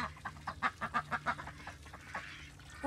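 Farm ducks gather and quack in a quick rhythmic series of calls, fairly faint and close together, with softer farmyard sounds trailing off afterward.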